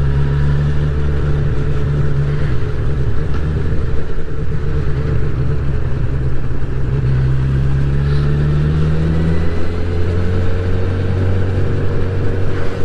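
A 2022 Honda CB1000R Black Edition motorcycle ridden with a quick shifter, its engine a loud, steady drone whose pitch rises and falls with smooth gear changes, heard close alongside wind noise.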